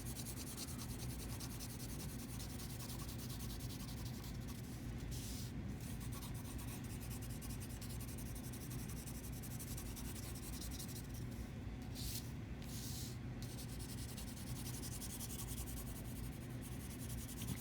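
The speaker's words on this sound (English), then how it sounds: "I'm going to put pencil over the entire back of the paper" Ebony pencil shaded steadily across the entire back of a sheet of paper, preparing a drawing for transfer to a linoleum plate; a continuous close, dry rubbing and scratching runs alone throughout.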